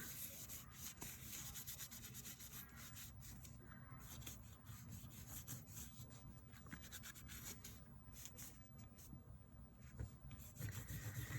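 A cotton ball soaked in nail polish remover rubs over taupe crocodile-embossed planner leather, a soft continuous scrubbing at very low level with quick back-and-forth strokes and no voice.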